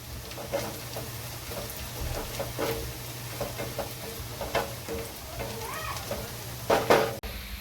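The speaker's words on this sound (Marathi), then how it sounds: "तर मंडळी बघा, कांदा आपला मस्तपैकी गोल्डन ब्राऊन होतोय" Onions fry golden brown in a pan for chicken tikka masala with a continuous crackling sizzle. Repeated scraping stirs and a few sharper clatters against the pan sound up close, with no talking.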